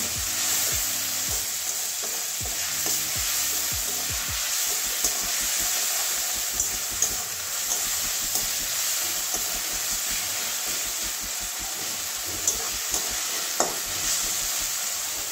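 Onion frying in oil in a pan with a torn bay leaf, a continuous close sizzle and hiss broken by the scrape and tap of stirring.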